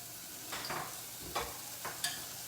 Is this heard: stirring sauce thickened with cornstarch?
yes